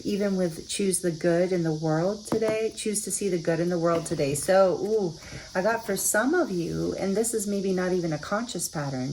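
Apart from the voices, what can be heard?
cicadas buzzing outside open windows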